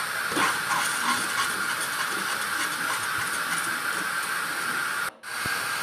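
Chili garlic sauce cooks down in a pan until sticky, making a steady, even sizzling hiss up close. The hiss cuts out briefly near the end.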